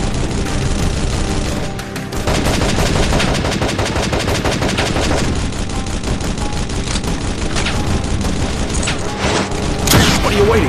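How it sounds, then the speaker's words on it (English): Heavy combat in the Modern Combat Sandstorm video game, an RPG fired at a tank amid dense, continuous gunfire and explosions, loud and busy throughout with a sharper blast near the end. "Get that RPG and shoot that tank."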